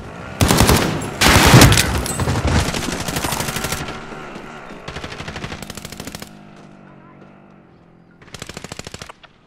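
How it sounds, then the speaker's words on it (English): Bursts of automatic gunfire in the Call of Duty: Modern Warfare video game, several loud rapid volleys with short pauses between them, the final burst coming after a quieter stretch. "Receiving hostile fire"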